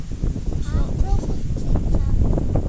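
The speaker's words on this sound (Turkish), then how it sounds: "Çok esiyor burası." Strong wind buffets the microphone outdoors in a field with a constant low roar, while a voice talks underneath.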